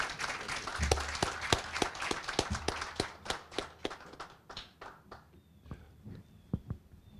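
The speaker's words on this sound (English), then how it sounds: "And is a round of applause for Congressman" A small audience at a college executive leadership breakfast claps for a congressman, a scattered round of distinct hand claps that thins out and fades to a few isolated claps at the end.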